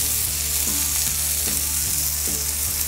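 Burger patties sizzle steadily on a Blackstone griddle, a loud, dense, continuous frying hiss with faint periodic scraping underneath and no voices.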